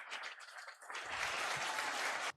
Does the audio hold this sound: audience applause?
yes